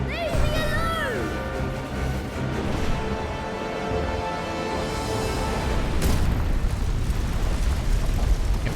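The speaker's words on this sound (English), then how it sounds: "Phoenix dive bomb" Phoenix dive bomb attack in Final Fantasy XVI, a sustained roaring blast of fire and rumble that swells and surges continuously, with a sharp burst near the end and a voice speaking over the top at the start.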